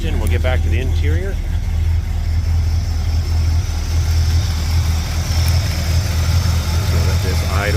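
A 1967 Dodge Charger with a 318 V8, automatic, and dual exhaust idles steadily with a deep, low rumble throughout, joined briefly by voices at the start and end.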